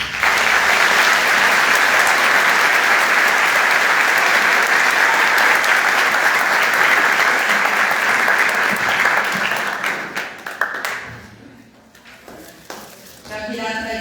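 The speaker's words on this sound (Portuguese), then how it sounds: "o nosso muito obrigado e o nosso belo aplauso" A church congregation at the closing Mass of the Festa do Divino applauds the festival organisers, loud sustained clapping filling the space for about ten seconds before fading out, followed by quieter room sounds.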